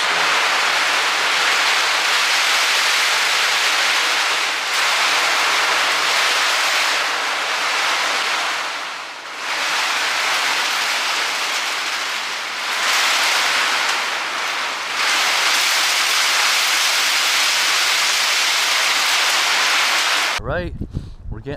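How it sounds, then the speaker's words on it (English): Storm rain on the Appalachian Trail, a loud steady hiss of downpour drumming on a tent or surroundings with slight surges, continuing for about twenty seconds before a brief rustling at the end. "You can hear the storm."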